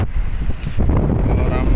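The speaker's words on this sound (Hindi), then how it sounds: "बहुत तेज़ हवा चल रही है इधर" Strong wind gusts across a road construction site with steel rebar set up. It buffets the microphone in heavy, rumbling bursts throughout, close and loud.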